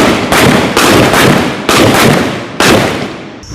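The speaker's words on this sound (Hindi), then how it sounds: "असली गोलियां अभी ये पिस्टल से फायर करेंगे" A pistol fires live rounds during Indian Army weapons training at the India-Pakistan border, four loud, sharp bangs spaced about a second apart, each with a long echoing decay.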